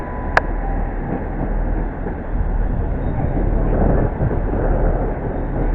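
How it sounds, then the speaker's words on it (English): A freight train pulls away from Reading station, producing a loud, continuous low rumble that swells slightly as it departs. "Leading away on the Didcot service is freight"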